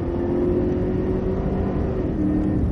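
A Cadillac CTS-V car powers out of a corner, its engine holding a loud, steady droning pitch that shifts slightly near the end, with heavy road and wind rumble underneath and no talking.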